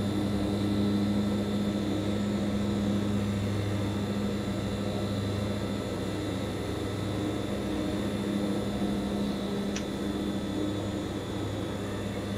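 A Hawker Siddeley HS 748 twin-turboprop airliner flies low over a city in a flight simulator, its engines giving a steady, even drone with a tonal hum that holds throughout, with no talk over it.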